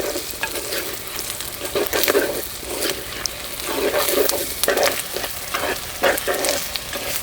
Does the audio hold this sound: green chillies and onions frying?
yes